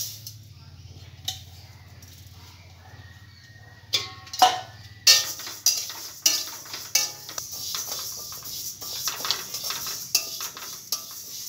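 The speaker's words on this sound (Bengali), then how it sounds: "বন্ধুরা, প্রথমে মুগ ডালটাকে একটু ভেজে নেব।" Moong dal lentils dry-roasting in a pan while being stirred, a series of scraping, clinking spatula strokes and rattling grains over a low hum, getting busier after a few seconds.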